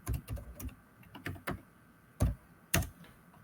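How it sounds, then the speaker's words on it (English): Keys tapped on a computer keyboard while entering a username and password for a Hikvision IP camera login, with irregular clusters of close, crisp clicks and two sharper, louder strokes near the end. "So I am entering the username of Hikvision camera and then password."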